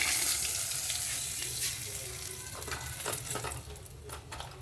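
Dried red chillies and a bay leaf crackle in hot oil, a close, busy sizzle that eases a little toward the end, with faint clinks and stirring scattered through it and no voices.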